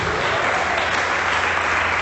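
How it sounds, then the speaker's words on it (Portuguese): Steady, dense applause from a church congregation, continuous and even throughout with no breaks or voices standing out. "Você pode aplaudir Ele"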